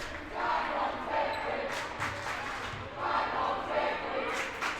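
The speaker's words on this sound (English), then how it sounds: "it's refreshing to have a large enough home crowd here to get some chants going" A home crowd chants in rhythmic swells at a boys' high school basketball game, Wilmot Union versus Burlington, loud and steady across the gym with repeated surges.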